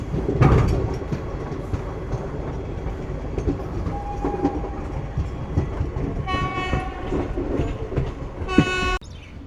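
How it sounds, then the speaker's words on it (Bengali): A passenger train hauled by a WAG-12 electric locomotive rolls past near the scenic Jhajha station among hills, a loud rumbling clatter with wheel noise, punctuated late by two sustained horn blasts. "এই দেখুন বিরল দৃশ্য, passenger train with WAG-12 engine."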